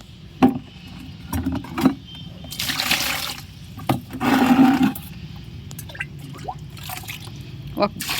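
Water is poured into a banana-and-jaggery fertilizer mixture to dilute it, in two short splashing bursts between scattered drips and light clinks at close range.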